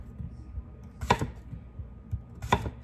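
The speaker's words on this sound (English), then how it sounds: "You're gonna hit the cutting board with your knife there, and then you're just simply gonna go down, and you've successfully cut a cucumber." A knife cutting a cucumber on a cutting board, two crisp separated chops about a second and a half apart over a quiet background.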